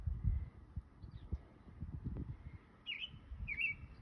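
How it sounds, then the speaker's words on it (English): Outdoor birds chirp faintly, with a couple of brief calls late in the clip over low rustling and thudding background noise. "Yeah, you can hear the birds."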